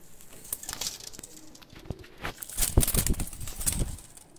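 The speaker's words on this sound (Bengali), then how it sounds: "এই ছেড়ে দেখাচ্ছি 2টা কবুতর" Two pigeons of a high-flying or teddy breed are let go and burst into flapping wings, a flurry of quick, close wingbeats building to a louder clatter, with a faint coo amid the fluttering and no talk.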